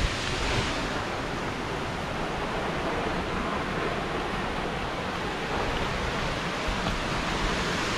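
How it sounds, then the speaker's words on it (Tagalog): Rushing water at Ellenborough Falls in New South Wales, a steady broadband roar of cascading water that stays loud and constant throughout with no voices. "Ang lakas ng agos ng tubig."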